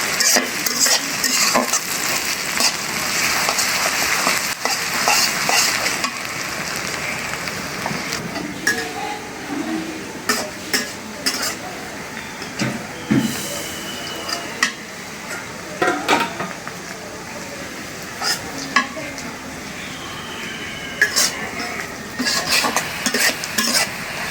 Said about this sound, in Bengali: লাল করে ভাজা নিলাম পেঁয়াজ রসুন